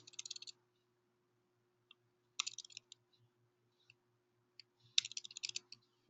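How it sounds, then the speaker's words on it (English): Keys on a computer keyboard tapped in short bursts of quick clicks with pauses between, fairly quiet and close, over a faint steady hum, as a role is typed into real estate brokerage software. "Simply type that in."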